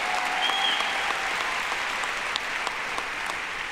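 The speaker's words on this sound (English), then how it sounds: "yes, we can clap for that" Audience applause at a Berkeley music ceremony: steady, dense clapping from a crowd, filling the whole stretch at an even level with a few sharper claps standing out near the end.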